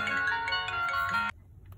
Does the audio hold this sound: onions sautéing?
no